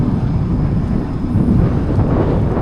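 Steady wind buffets the microphone in a constant low rumble and roar, loud and unbroken, with no voices.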